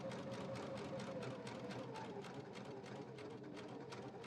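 A sewing machine stitches piping onto a child's faux leather crossbody bag, a faint, steady mechanical whir with a fast regular needle rhythm running throughout.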